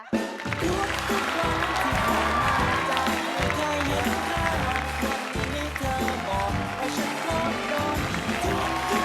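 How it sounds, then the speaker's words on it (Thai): Studio audience applause and cheering greets Na Nek as he arrives on the Thai cooking show Kalamare, a loud, dense wash of clapping over bright music with thumping beats, with no voices clearly heard. "ขอเสียงปรบมือต้อนรับน้าเนก"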